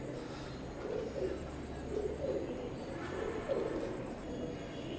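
A pair of imported Teddy pigeons of Oman bloodline, new adults in moult, cooing softly in a few quiet, repeated low coos over faint background hum, no talking.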